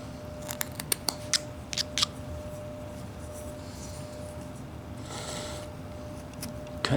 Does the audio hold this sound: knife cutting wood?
yes